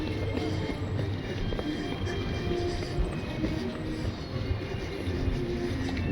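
Steady rumbling of a small theme park train at Efteling rolling along its track, with faint rattling and clacking throughout, no talking heard.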